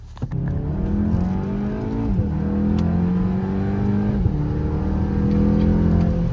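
A car engine with a Milltek exhaust revs up repeatedly, its exhaust note climbing and falling in smooth sweeps, loud and close with no talking.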